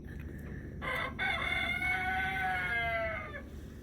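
A rooster crows once in a long, drawn-out cock-a-doodle-doo, loud and fairly close, over steady outdoor background noise.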